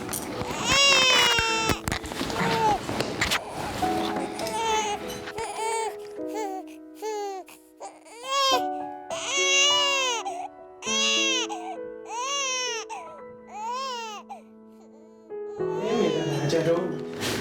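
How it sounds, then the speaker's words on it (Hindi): A baby cries in repeated wailing bursts at close range, with adult voices talking over the first few seconds before the crying carries on mostly alone. "बच्चा रो रहा है"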